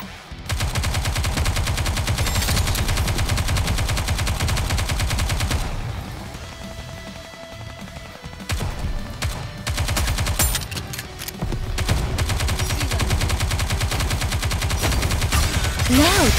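Rapid, sustained automatic gunfire from Goddess of Victory: Nikke, loud and continuous, dropping away briefly in the middle before the volleys resume hard and steady, with voices heard in between.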